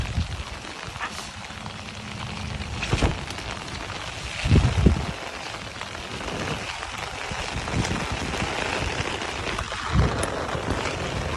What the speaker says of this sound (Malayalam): ഉണ്ടാവും മഴ കേട്ടോ നല്ല മഴയാണ്